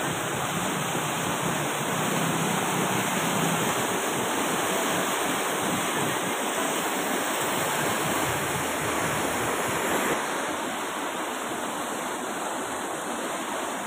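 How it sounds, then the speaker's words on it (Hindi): The flooded Sisarma river, running about seven feet deep, rushes with a loud, steady, broadband roar of turbulent water that continues without a break. "पानी आप देख सकते हैं कि किस प्रकार से रौद्र रूप लिया हुआ है"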